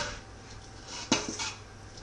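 Bite-sized lean pork pieces drop into a pan of onions with a single sharp clatter, followed by a softer knock and quiet background hiss.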